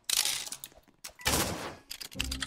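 Rapid bursts of gunfire in the Roblox game Murder Mystery 2, several loud volleys in quick succession separated by brief pauses.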